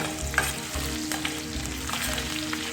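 Chopped ginger and about four garlic cloves fry in hot oil for a Punjabi dhaba-style dal tadka, giving a steady close sizzle with light stirring scrapes throughout and no talking.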